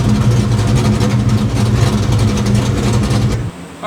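A Ford Mustang Foxbody engine idles after idle tuning, a steady low rumble running loud and close for most of the clip before it drops off near the end.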